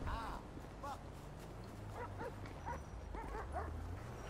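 A police dog in Grand Theft Auto V barks and yips repeatedly in short bursts over constant game background noise.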